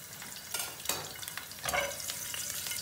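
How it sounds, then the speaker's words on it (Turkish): Minced garlic hits hot oil in a pan and sizzles in crackling bursts, with swells of frying noise and faint stirring against the cookware, close and without speech. "Hemen tavayı soğutmadan içine şöyle bir elimizi de yakmadan 2-3 diş bir sarımsak doğruyoruz."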